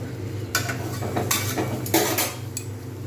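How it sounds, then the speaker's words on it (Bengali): Spatula scraping and clinking against a metal pan while potatoes with ginger and spices are stirred, several sharp metallic scrapes in irregular bursts over a low steady hum, close and fairly loud. "এবার আমি নাড়িয়ে নেব।"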